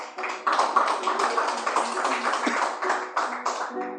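Church congregation clapping together for Jesus during a sermon, a dense, steady wash of many hands with faint tonal music or voices underneath throughout.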